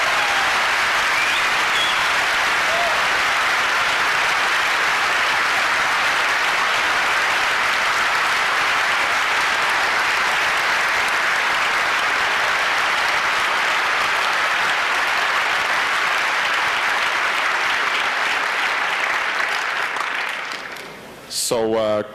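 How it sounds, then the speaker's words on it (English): A large audience at a 29C3 hacker conference talk breaks into sustained, dense applause that carries on evenly for about twenty seconds before tapering off as a voice begins. "Give a round of applause."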